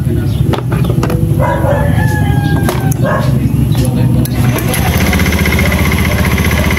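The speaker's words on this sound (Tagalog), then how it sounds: "susubukan natin pa-startin naman ngayon kung nagkakarga itong motor na ito mga idol. Start natin mga idol." A motorcycle engine is started for a test and then runs loud and steady at idle, a rooster crowing in the background.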